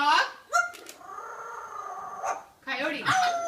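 A pet parrot imitates a dog, producing a short series of harmonic bark-like and whining yelps at close range, with a person asking for the sound just beforehand.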